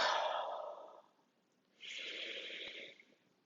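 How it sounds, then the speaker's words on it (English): Three audible yoga exhales through the mouth, close and breathy: two long outward breaths in the first second and a broad third one after a short pause, with no talking. "breathe out with 3 audible exhales"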